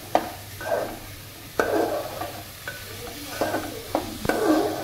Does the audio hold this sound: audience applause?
no